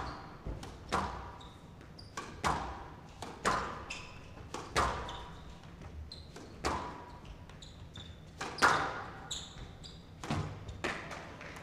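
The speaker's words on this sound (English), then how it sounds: "Massive rallies now in this match." A squash ball is struck back and forth in a rally during a women's professional semi-final on court, producing sharp regular thwacks and thuds roughly every second, with each hit ringing briefly off the walls.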